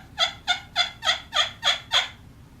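A homemade rosewood and cedar turkey call with a slate top, finished in clear coat, played in seven even, clucking yelps about a third of a second apart, close and clear with no talk.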